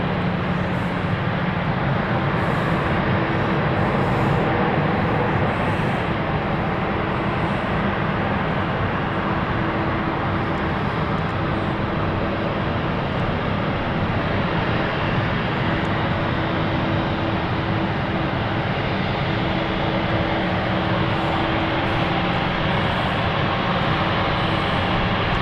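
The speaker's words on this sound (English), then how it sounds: "We're going to go over to Malaga because they are now on the runway." An airliner sits on a runway with a steady, loud, broadband engine roar that holds constant throughout, and no one speaks.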